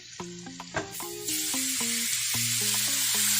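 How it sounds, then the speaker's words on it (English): Raw shrimp hit melted butter in a hot pan and burst into a loud, steady sizzle that swells and holds, following a few soft clinks of utensils, while quiet background music plays. "So we're going to go ahead and add our shrimp in."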